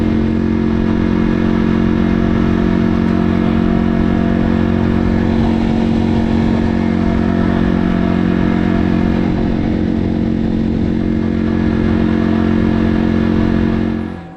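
A Janus motorcycle engine runs loud and steady for about fourteen seconds with a constant low drone, then cuts off abruptly at the end.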